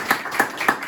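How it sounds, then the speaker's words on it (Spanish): Three separate, evenly spaced claps from a church congregation, each short and bright, close by and fairly loud, with quiet in between and no talk. "Denle un aplauso a Jesucristo esta mañana"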